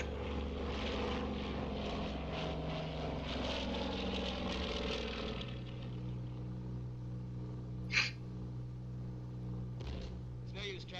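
Propeller aircraft engine drones in flight in a 1942 wartime film, a loud steady roar with a sharp click near the end, while the crew talk over it.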